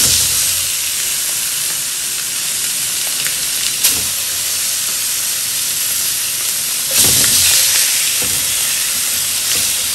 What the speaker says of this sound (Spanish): Vamos a poner nuestro pollo con la piel hacia abajo. Vamos a sellar este pollo.